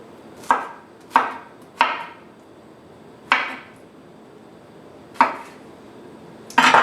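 A knife chops through a ripe pineapple on a cutting board while preparing it for canning: six sharp, separate thuds at uneven intervals, close and loud, with quiet pauses between them.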